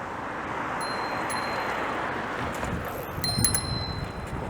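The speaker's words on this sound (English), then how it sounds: "They're ringing their bell at this cab, trying to make a right turn here." Bicycle bell rung at a cab on Richmond Street in downtown Toronto, several short bright rings over steady traffic and street noise, heard from a short distance.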